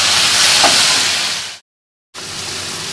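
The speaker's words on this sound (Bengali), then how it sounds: "এই টমেটো কেচাপ দিয়ে আবার তেল ছাড়া পর্যন্ত ভালো করে নাড়াচাড়া করে নেব" Spice paste with tomato ketchup sizzling and frying in a pan while being stirred, a steady hiss that stops abruptly for a moment and then resumes.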